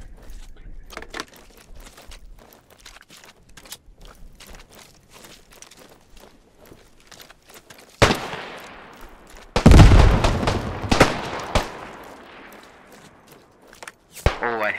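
Gunfire in the World War I shooter Beyond The Wire: scattered distant cracks and thuds under low chatter, then a loud close burst of shots and impacts, ending in another sharp report near the end.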